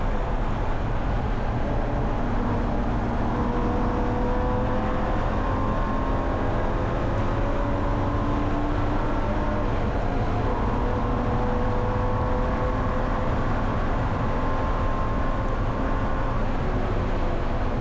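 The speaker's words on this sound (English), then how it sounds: "More super touring cars flying by." Super touring race cars streak past on a track at Willow Springs, heard from inside a Spec E46 race car as a steady, loud engine and road roar with faint passing engine tones layered over it.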